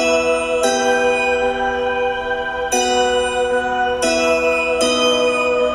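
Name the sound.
choir layered under synth sine bells and dulcimer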